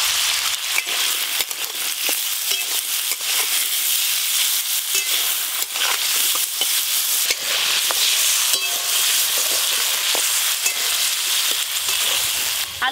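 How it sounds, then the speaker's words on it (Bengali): Potatoes with turmeric, salt, panch phoron, dried chilli and bay leaf being stirred and fried in a pan, a loud continuous sizzle with scraping spoon strokes throughout. "আলু দিয়ে একটু ভালো করে নেড়ে নিয়েছি"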